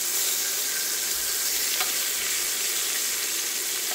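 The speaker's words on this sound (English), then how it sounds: "Oh yeah, that's the sear we want." Short ribs sear in a pot with a dense, continuous sizzle that stays loud and even, with a single brief scrape partway through; no talking.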